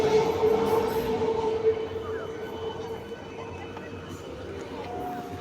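A local commuter train pulls up at a busy station platform. A sustained high metallic squeal rides over a low rolling rumble, then fades into steady rail noise, with voices murmuring in the background.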